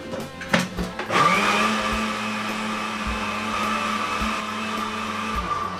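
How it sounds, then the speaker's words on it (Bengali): A kitchen blender whirs loudly as it churns a sugar mixture for pudding, starting with a couple of bumps before spinning up into a steady, high-pitched motor drone that holds until the end. "এটা আরেকটু ব্লেন্ড করতে হবে"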